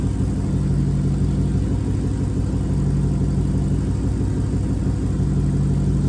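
A Chrysler 300C with a 345 Hemi V8 engine gives a loud, steady, close-up running rumble with a deep low throb that holds for several seconds, with no talking.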